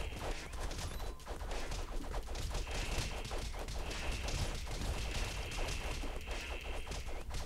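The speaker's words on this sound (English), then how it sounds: "The aliens have grenades." Dense, continuous crashing and booming action from the Castle Crashers video game, including alien enemies' grenades exploding, as a loud steady clatter of blasts and hits with no talk.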